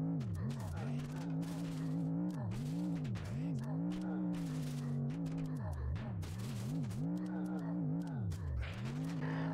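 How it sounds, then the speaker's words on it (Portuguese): Car engine with an upgraded, stronger motor in Earn to Die 2, droning steadily and swooping up and down in pitch as it revs, with crashes and impacts scattered over the top throughout. "o carro está com o motor mais forte e vamos ir"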